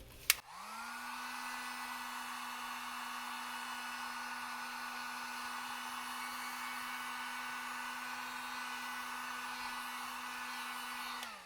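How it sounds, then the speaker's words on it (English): Dual-setting heat gun on high, warming a plastic mask: a switch click, then a steady close-up blowing whir with a constant motor hum that runs unbroken for about eleven seconds before shutting off, with no talking. "I use a dual setting heat gun on the high setting, and I heat up the area that I need to round out"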